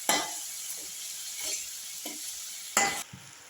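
Onion and tomato sauté in an oily pan with a steady moderate sizzle, punctuated by several scraping stirs of a spatula against the metal, close by and without voices.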